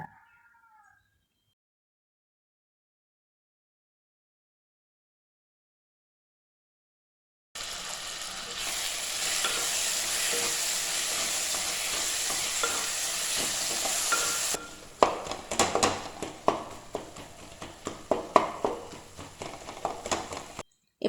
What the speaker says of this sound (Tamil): தக்காளி நல்லா வேக வச்சிடுங்க.